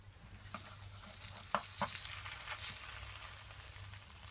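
Ripe plantain French toast frying in a pan on a medium stove, a low steady sizzle with a few sharp crackles and pops, close and quiet, with no talking.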